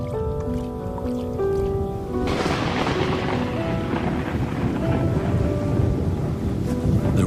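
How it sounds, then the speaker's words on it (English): A rainstorm with thunder in Botswana: a long low rumble of thunder rolls under steady heavy rain hissing on the ground, with faint music or tonal sounds in the background at the start. "The rainstorm brings healing and relief to the land and the lions."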